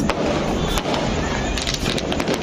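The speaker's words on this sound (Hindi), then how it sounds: "सब जगह पटाखे दग रहे हैं।" Diwali firecrackers bang and crackle across a neighbourhood, with sharp irregular pops, some close and some distant, over a loud windy background. No one speaks.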